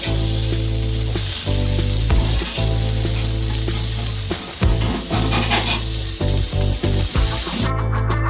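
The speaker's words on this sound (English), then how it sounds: "Turn the cutlets to the other side." Cutlets fry in a pan, a loud, close sizzle with scraping and stirring bursts as they are moved and turned, plus a steady low hum underneath.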